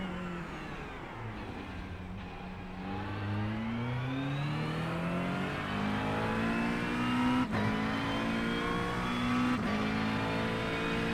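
A GT3 race car engine in a racing game revs continuously, pitch climbing through the gears with sharp dips at each shift and a blip on downshifts; steady, loud and close, with no voices over it.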